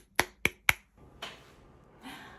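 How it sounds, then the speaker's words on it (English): Three sharp hand claps spaced evenly in a quiet room, loud and close, followed by faint soft rustling. "I'm clapping for the book and I'm clapping for you"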